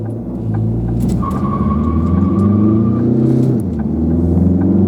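A 2013 Ford Mondeo 2.0 TDCi 163 hp diesel with a Powershift gearbox roars as it accelerates hard, its pitch climbing steadily, then drops off as the throttle eases; loud and close, no talking.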